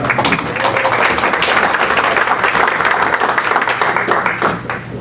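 An audience at a Boston community event with city councilor Sal LaMattina bursts into sustained applause, dense and fairly loud, with many hands clapping steadily for about five seconds before tapering off at the end.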